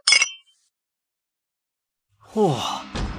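Glasses clink together in a toast at a banquet, a brief bright chime at the start, followed by silence and then a sigh-like voice and a second sharp clink near the end.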